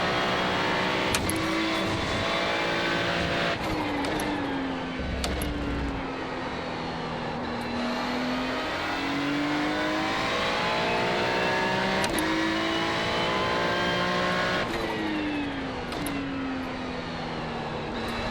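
Ferrari GT3 race car engine in the iRacing sim at Aragon, a steady high-revving drone with rising and falling gear sweeps, clear downshifts under braking, loud and continuous with no talk.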